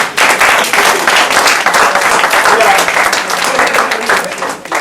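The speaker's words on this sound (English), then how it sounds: "Give them a round of applause one more time" Loud applause from a youth summit audience, a continuous roar of many hands clapping for the speakers with a few voices mixed in.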